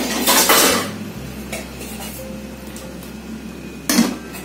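A metal cooking pot and its lid are handled while steamed mackerel pepes is cooking, with clanking clatter at the start and a brief metallic knock near the end.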